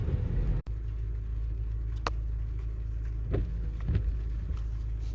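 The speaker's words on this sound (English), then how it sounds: "Traffic's backed up for as far as the eye can see" Steady low engine and road rumble surrounds a car sitting in a long traffic jam behind a rollover crash, with a brief click and a few faint knocks, heard close from inside the vehicle.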